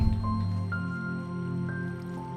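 Water flows in Minecraft as a soft, continuous liquid trickle with faint dripping and squishy sounds, steady and moderately quiet, joined by gentle in-game ambience and background musical tones.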